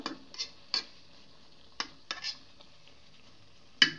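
A utensil taps and scrapes against a pan while mutton liver with whole garlic cloves is stirred and browned. There are several sharp, sparse clinks, quiet and close, with nothing else between them.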